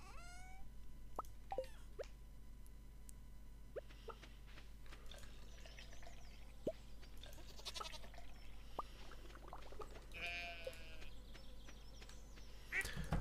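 Sheep bleats from the Stardew Valley farming game, several short calls scattered over a steady hum of game music and ambience, moderately loud among other small game effects.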